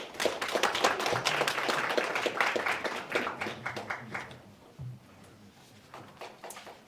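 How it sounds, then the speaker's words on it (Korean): Applause at a public policy forum in a hall, brisk clapping from an audience that is loud at first, then thins out and fades, with a few scattered claps near the end. "큰 박수를 환영해 주십시오"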